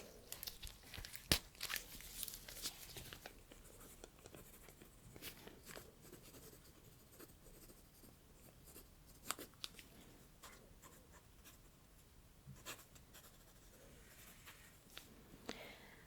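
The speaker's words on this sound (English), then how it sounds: "And I will write out the protocol really quickly." A pen scratches quickly across paper while a dental protocol is written out, faint and close, with soft rustling and crinkling around it and no talking.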